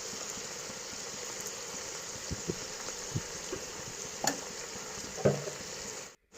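Chicken gongura curry sizzles steadily in a pan, a continuous close frying hiss broken by several soft scraping stirs and spoon knocks, with no talking.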